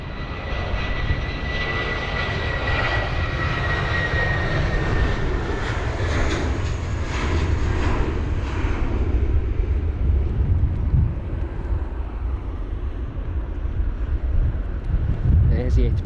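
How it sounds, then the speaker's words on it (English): A British Airways Airbus A320-200 with retrofitted sharklets moves along at stormy Heathrow. Its loud, steady jet engine roar and a whining tone run throughout under heavy wind buffeting, slowly shifting in pitch and easing toward the end. "There it is, the A320 with the retrofitted sharklets."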